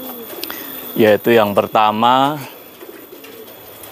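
Pigeons in breeding cages give a short burst of throaty cooing, close and clear, mixed with someone talking nearby.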